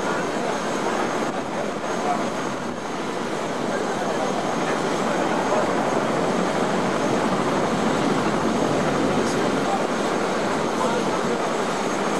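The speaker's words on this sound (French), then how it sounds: "Hélicoptère militaire" Continuous loud rotor and engine roar of a helicopter, steady and close, filling the whole stretch without clear speech.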